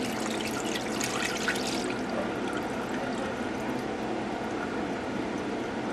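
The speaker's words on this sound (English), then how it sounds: "So just one quick rinse is all you need." Rice rinsed with water in a bowl gives a steady close trickle and pour of water with soft sloshing, continuous throughout and without speech.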